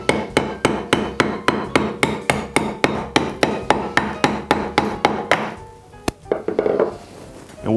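Small hammer taps on a knife blade set into a block of clear ice, a rapid, steady run of about twenty crisp knocks, then a few scattered strikes and cracking as the block gives way; no speech.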